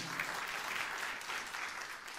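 A church congregation breaks into steady, dense applause that fills the room evenly and holds at full strength throughout, with no voices rising above it.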